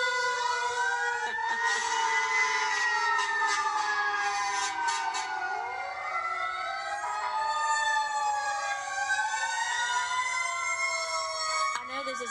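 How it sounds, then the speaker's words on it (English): Several overlapping wailing sirens rise and fall continuously, loud and steady, layered together like a parade of emergency vehicles passing close by. "See, this is what I think of when I think of sirens."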